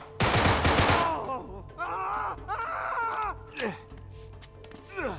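Loud, close burst of rapid gunfire from the video game Uncharted 3 fills the first second, followed by groaning, wailing game voices and a few scattered shots.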